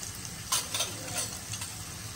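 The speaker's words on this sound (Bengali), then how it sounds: "এগুলো কিছুটা ভালোভাবে ভেজে নেব, কিছুক্ষণ নেড়ে নিয়ে" Whole garam masala spices (cardamom, cumin, cinnamon, cloves) fry in a pan with a constant soft sizzle, while a spoon stirs and scrapes in a few light, irregular strokes, close up and without talking.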